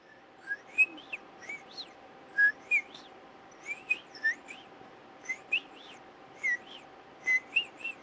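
Birds whistle and chirp in an outdoor natural setting, with about a dozen short, clear, rising whistled calls spaced irregularly over a quiet background and no talk.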